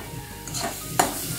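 A little ghee goes into radish chechki in a hot pan, setting off short sizzling bursts and a couple of stirring scrapes over a soft frying hiss.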